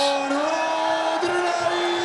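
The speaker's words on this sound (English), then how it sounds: "Crowd reveling in this." Darts arena crowd at a WDF Championship quarter-final roaring and whooping after a maximum, a dense, sustained wall of cheering with raised voices throughout.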